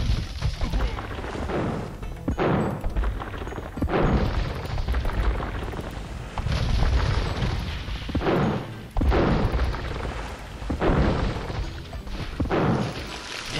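Bombard cannons fire in Age of Empires II during a Saladin campaign battle, a series of heavy booming blasts and crashes spaced a second or two apart over constant battle noise.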